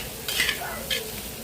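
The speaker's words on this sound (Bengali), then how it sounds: "চাল দিয়ে ভেজে নিচ্ছি।" Rice and lentils frying in oil with ginger, dried red chilli, bay leaf and panch phoron for bhog khichuri, giving a steady low sizzle with two brief bursts of scraping stirs, heard alone.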